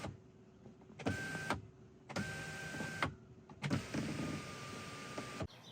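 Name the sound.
motorized electric sunshade moving in Tesla Model Y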